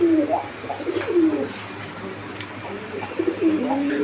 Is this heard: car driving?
no